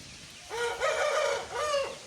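A rooster crows twice at a home poultry yard where chickens are kept, two loud, close, drawn-out calls with a short gap between them and no talk.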